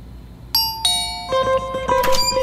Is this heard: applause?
no